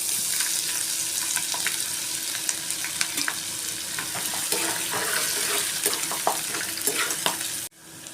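Chana dal, cumin and mustard seeds sizzle and fry steadily in hot oil for a raw mango pulihora tempering, with a continuous close crackle and scattered pops and spatters, ending abruptly.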